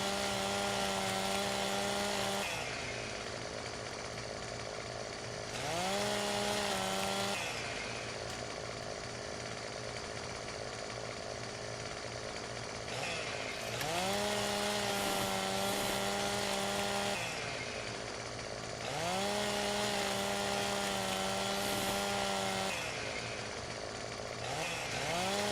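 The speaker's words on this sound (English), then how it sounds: "I'm gonna cut the tree. I just want to take the limbs off." Chainsaw cutting limbs off a tree in the Farming Simulator 17 video game: a steady, loud motor drone that rises into higher revving bursts several times as each cut bites, then settles back to idle, with no talk.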